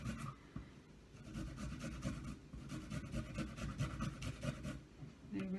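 Fresh ginger is rubbed against a box grater in quick, uneven scraping strokes, close but soft, with faint rustling between strokes.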